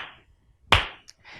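A single sharp hand clap marks one beat of a rhythm pattern in a first-grade art lesson, with faint breathy sounds before and after and no talking.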